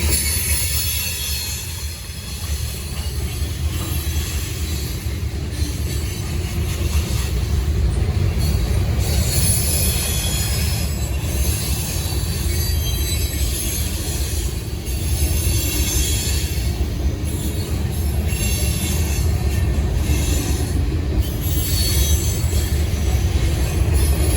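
A Norfolk Southern freight train, number 154, rumbles steadily past on the Charlotte District, a constant loud roar of wheels on rail with faint squeals and rattling over the whole stretch, no voices.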